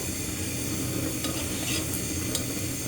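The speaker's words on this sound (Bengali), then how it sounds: "রুটি ভেজে নিচ্ছি যে আমি পরোটা ভাজলে যেভাবে তেলটা দিই" A roti fries in a small amount of oil on a stovetop, giving a soft steady sizzle with scraping and turning sounds close up and a few faint utensil clicks, no talking.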